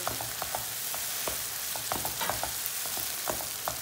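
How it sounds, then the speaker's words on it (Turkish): Tomato paste frying over low heat with tomatoes and peppers in a pan, a steady dense sizzle broken by brief scraping stirs, close and continuous with no voices. "Kısık ateşte salçaları güzelce bir kavuralım."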